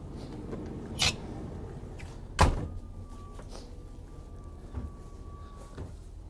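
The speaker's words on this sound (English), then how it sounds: "I'll shut that door" The door of a 2023 Newmar King Aire 4531 motorhome shuts with one solid thud, surrounded by a few softer knocks and light handling sounds in a quiet interior.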